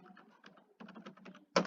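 Keys clatter on a computer keyboard while entering text into an Excel spreadsheet, with rapid close clicks in two bursts and a louder key strike at the end.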